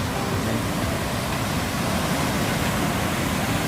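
Floodwater rushing down a swollen river at Mount Lebanus, St Thomas, producing a constant loud hiss and rumble that holds steady throughout, alone without any speech.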